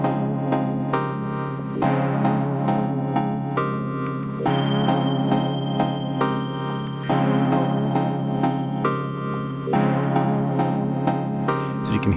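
Elektron Analog Four MKII analog synthesizer plays a clean, steady pattern of repeating plucked notes over sustained pad tones, loud and close with a regular rhythm and no talking.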